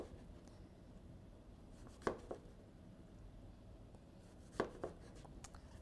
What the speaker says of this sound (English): So first I'm going to do some slices of zucchini.